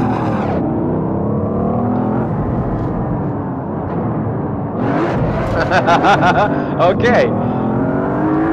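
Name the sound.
Mercedes C63 AMG engine driving in Assetto Corsa video game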